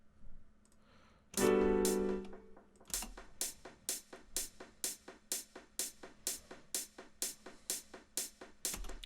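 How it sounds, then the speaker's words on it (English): A sharp, short hi-hat tick with a short envelope repeats in a steady rhythm in FL Studio, each hit trailed by fading delay echoes, after a brief burst of sound at the start. "I have this attack hi-hat, pretty short envelope, and there's a delay on that."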